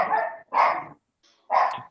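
A pet dog barks three times in quick bursts, close and fairly loud, with short pauses between them and no talking over the barks.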